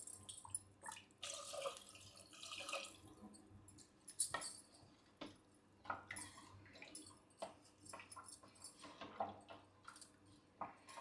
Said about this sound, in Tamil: நான் தண்ணி சேர்த்துக்கிறேன்